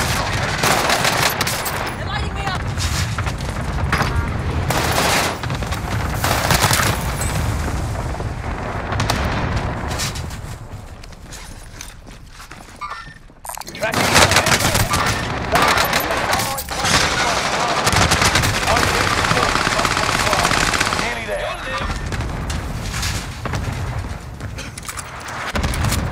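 Call of Duty Warzone firefight with dense, loud bursts of automatic gunfire and scattered explosions rattling almost nonstop, easing off briefly midway before the shooting picks up again.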